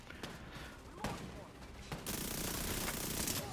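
Gunfire in The Division 2 aimed at the player: sharp shots at about 1 and 2 seconds, then a dense, sustained burst of firing that fills the second half, loud against busy game noise.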